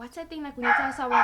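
A dog barks and yips in short bursts close by, mixed in with someone talking continuously over it.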